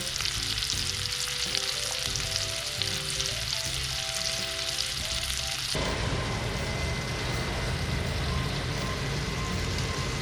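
Scallops sizzling in a hot pan alongside pasta, a steady dense frying hiss throughout, close and fairly loud with a shift in texture midway as the pan is stirred.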